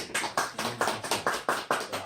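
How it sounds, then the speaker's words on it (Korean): Hands clapping in a church youth class, a steady run of about nine sharp claps in even rhythm, close and fairly soft, with no voices over them. "이거 박수를 안 칠 수가 없네"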